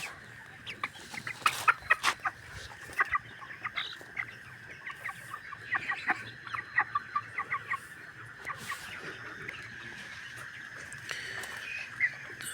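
Broiler chickens and a rooster cluck in a poultry shed, repeated short clucks near and far over a steady background hum, with no talking.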